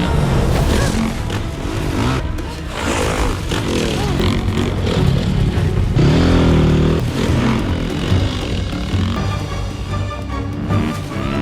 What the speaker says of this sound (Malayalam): അബിഗൈലിന്റെ രണ്ടാളുകൾ ഒരു ബൈക്ക് ഓടിച്ചു വന്നിട്ട് അവരെ അറ്റാക്ക് ചെയ്യുന്നത്